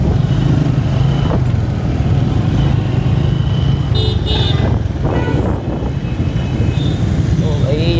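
Busy night road traffic in a city bazaar: a constant loud rumble of motorcycles and cars, with car horns tooting briefly in the middle and toward the end.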